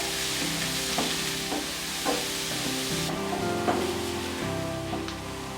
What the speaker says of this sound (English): Add crushed garlic and saute. Then add onion.